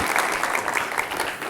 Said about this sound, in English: We'll share your claps and applause.